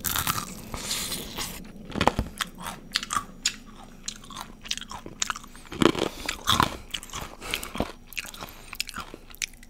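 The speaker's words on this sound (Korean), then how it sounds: "바삭바삭 치킨." Close-up crunchy bites into crispy homemade fried chicken, with sharp crackling crunches at irregular intervals followed by quieter chewing.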